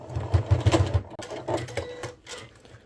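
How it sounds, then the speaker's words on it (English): A sewing machine runs a basting stitch along the edge of a fabric bag, a close rapid mechanical whir that stops after about a second and is followed by softer handling clicks. "we can do a little base stitch right along here"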